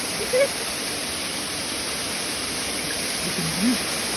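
Water flows steadily at hot and cold spring outlets on a Konkan trip, a continuous broadband rush that holds level throughout, with a couple of faint, brief voice sounds in the background.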